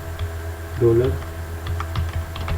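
Steady, close keystrokes on a computer keyboard tap out PHP code in a quick, continuous run, with a brief voice murmuring partway through.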